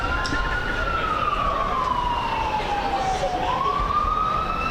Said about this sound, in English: We're getting blocked by an ambulance right here